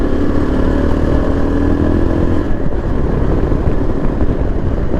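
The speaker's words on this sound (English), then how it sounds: "it is pulling, but it is lugging the engine" A 2024 Yezdi Adventure motorcycle engine lugging at low speed in a high gear, rumbling low and labored at low revs, a loud, steady chugging drone throughout.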